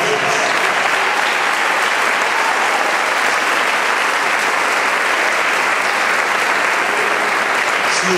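Loud, sustained applause from a large crowd at a church worship service, dense and continuous throughout without a break.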